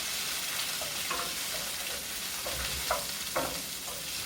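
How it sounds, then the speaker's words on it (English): Ratatouille vegetables frying in a pan and stirred with a wooden spoon, a soft continuous sizzle broken by a few scraping, clattering stirs near the end. "With a wooden spoon. Give it a stir."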